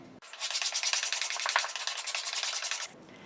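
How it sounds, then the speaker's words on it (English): A scraper works the carved spruce top of a violin in one steady run of rapid, rhythmic rasping strokes, close and clear, then stops abruptly. "the next thing I need to do is scrape it and we will be done with carving the top"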